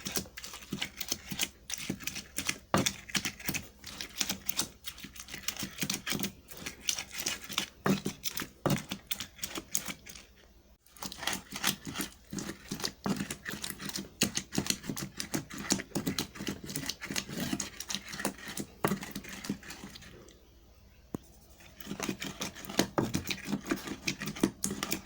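Ingredients for Ghanaian hot pepper sauce are ground together in a steady, rapid clatter of scraping and pounding that runs almost without pause, broken by two brief quiet gaps.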